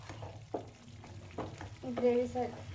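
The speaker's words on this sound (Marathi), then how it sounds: "ग्रेव्ही फ्राय झाली आहे व्यवस्थित, त्याला तेल पण छान असं सुटलं आहे" Hyderabadi paneer masala gravy frying in a pan, oil separating, with a soft bubbling sizzle and a few scraping stirs; a faint tonal sound rises near the end.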